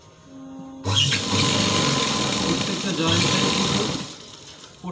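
A sewing machine starts abruptly and runs in a fast, steady whirring burst while double stitching the joints of Patiala trousers, close by, with a voice talking over it.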